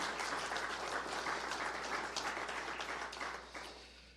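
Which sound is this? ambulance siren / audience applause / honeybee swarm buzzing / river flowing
audience applause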